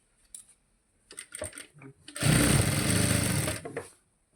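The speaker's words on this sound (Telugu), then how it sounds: "ఇటు సైడ్ నుంచి మొత్తం చివర్లన్నీ కుట్టేసుకోవాలి" A sewing machine stitches the edges of a blouse, starting with a few short bursts and clicks, then running in one loud, steady whir for over a second before stopping.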